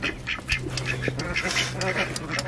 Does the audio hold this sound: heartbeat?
no